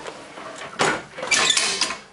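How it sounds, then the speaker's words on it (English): Manual door handle on a 1993 International school bus working the folding door open, giving a sharp mechanical clack followed by a longer rattling swing of the panels, close and fairly loud. "and you have the steampunk door handle."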